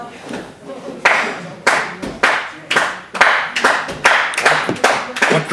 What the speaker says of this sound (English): What crowd we have trying to rally behind Alex Candido.